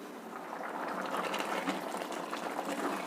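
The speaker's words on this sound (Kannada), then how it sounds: "ಈಗ ಇದು ಅಕ್ಕಿ ಹೆಸರುಬೇಳೆ ಎರಡು ಬೇಯೋದಕ್ಕೆ ಬಿಡ್ತಾ ಇದ್ದೀನಿ. ಫ್ಲೇಮ್ ಜಾಸ್ತಿನಲ್ಲೇ ಇದೆ, ಫುಲ್ ಹೈ ಫ್ಲೇಮ್ ಇಟ್ಟಿದ್ದೀನಿ." Rice and moong dal for khichdi boiling hard in a heavy-bottomed pot on a full high flame: a continuous, dense bubbling and gurgling, close and moderately quiet, with no talk.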